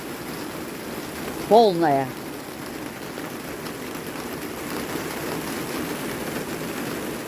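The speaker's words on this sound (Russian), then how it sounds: "Третий ливень." Heavy summer rain shower hisses steadily outside a greenhouse, a constant near wash of noise with a short spoken voice breaking through early on.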